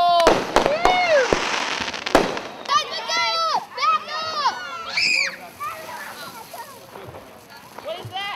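A Fourth of July smoke bomb firework goes off outdoors with a few sharp pops and hissing, mixed with excited children's voices and chatter throughout.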